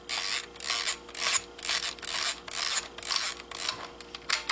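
A film camera's manual advance lever is worked in repeated strokes, giving a steady series of close ratcheting, mechanical clicks and rasps with brief gaps between them and no voices.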